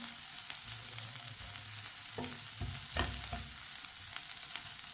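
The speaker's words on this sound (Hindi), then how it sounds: "ऐसे ही चम्मच चलाते हुए गाजरों को 2 मिनट के लिए पका लेना।" Carrots cooking in a pan while a spoon stirs them, giving a steady close sizzle with a few soft scrapes and knocks of the spoon against the pan.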